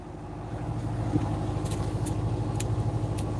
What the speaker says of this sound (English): you're just gonna have to deal with the fucking engine noise, because we gotta charge up the batteries.